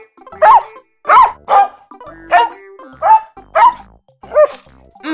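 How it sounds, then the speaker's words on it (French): A dog barks seven times in a steady rhythm, each bark loud, close and ringing, with brief silences between them. "Le chien aboie."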